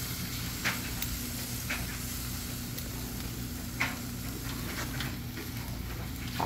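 Pork ribs sizzling on a hot barbecue grill over an open fire, a steady bright hiss and crackle with occasional sharper pops, close and continuous with no talk.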